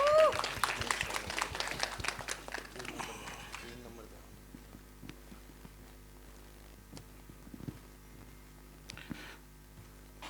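Audience applause at a film trailer launch event, a burst of clapping loudest at the start and fading within about four seconds, leaving a murmuring hall with scattered faint claps.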